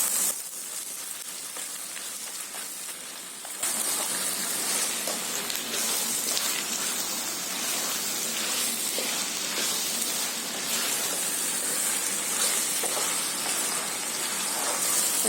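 Onions and tomatoes cook down with spices in hot oil for a village-style Konkani biryani, giving a steady, close, crackling sizzle that grows noticeably louder after the first few seconds and carries on alone without any talk.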